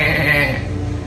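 Sheep bleating as a sound effect, one loud, close, drawn-out bleat that fades over about a second, heard alone.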